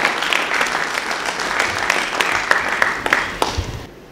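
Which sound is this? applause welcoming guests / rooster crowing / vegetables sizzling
applause welcoming guests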